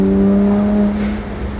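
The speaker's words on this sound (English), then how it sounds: "We got some linearity to the exhaust note." A modified BMW 1M's engine and exhaust hold a steady, droning tone, then ease off and settle lower, heard from inside the cabin with no talking.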